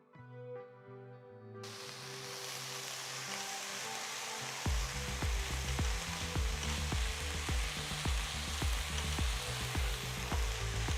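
Steady frying sizzle of spinach with garlic and onion sautéing in a pan, a broadband hiss joined midway by rhythmic scraping and stirring clatter against the pan, continuous and close.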